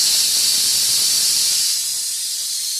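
A pressure cooker holding dal with turmeric and tamarind vents steam in a loud, continuous hiss. It stays steady for most of the stretch, then eases slightly toward the end.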